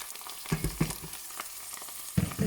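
Minced meat frying in a pan for a simple tomato meat sauce, with a steady sizzle broken by a few sharp clacks and scrapes of stirring, fairly close and moderately loud, no voices.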